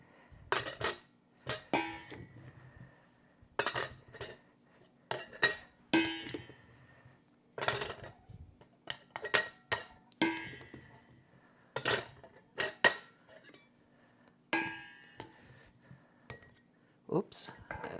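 Sweet potato pieces are dropped and packed into glass canning jars, giving repeated clinks, knocks and taps at an uneven pace, fairly close and moderately quiet, with a faint steady hum behind them.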